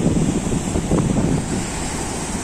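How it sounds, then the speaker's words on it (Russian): Rough Adriatic surf churns and crashes close by at a sandy beach in Italy, with gusty wind buffeting the microphone throughout. "Да, море бушует сегодня."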